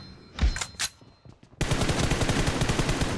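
Rapid gunfire in a video game, a few separate loud shots and then a dense, sustained burst of automatic fire, close and with no talking over it.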